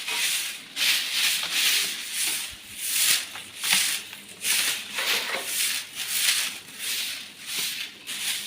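A broom sweeps across the floor of a house in steady, rhythmic swishes roughly every half second, loud and close, each stroke a scratchy brush sound, with no talking.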